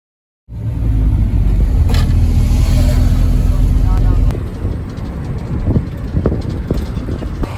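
Engine rumble from inside a Dala Dala minibus in Tanzania, a steady loud drone that starts abruptly, then eases to a rougher idle with clunks and rattles while people talk over it.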